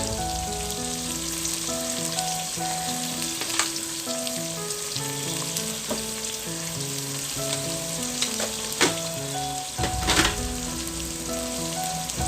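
Chopped onions with a teaspoon of salt browning in a pan for an Indian meat korma give a steady, even sizzle that runs throughout, with a few sharper crackles and a melodic music track playing over it.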